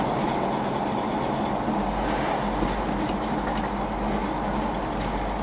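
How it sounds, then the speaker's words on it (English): A 1984 Chevy K20 truck with a freshly fitted muffler drives along, its steady low engine and exhaust drone continuous under road and wind noise throughout, loud and close with no talking. "This thing's driving like a brand new truck. Sounds pretty good now too."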